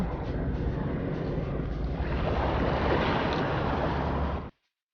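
Surf washes steadily onto Fort Kochi beach in Kerala, a broad continuous roar with wind buffeting the microphone, running alone with no talk before cutting off abruptly.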